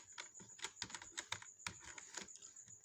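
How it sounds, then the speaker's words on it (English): Quick, uneven keystrokes clatter on a computer keyboard, a close, faint run of taps with brief pauses and no talking. "So let's say for instance I'm typing geographics."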